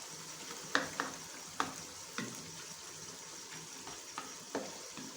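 Yogurt is stirred into beef liver masala in a pan over low heat, with a quiet simmering sizzle and a handful of soft spoon clinks and scrapes spaced a second or so apart.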